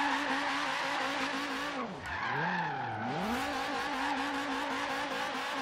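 Tires squeal steadily as a Chevrolet Bel Air drifts in Forza Horizon 3, the engine note dipping and swooping as the rear swings around, loud and continuous with no talk.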